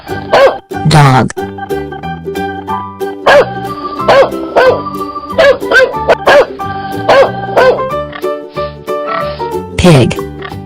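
A cartoon dog barks over a bouncy children's music track, with several short bow-wow yelps scattered through it, loud and close, and a voice also present.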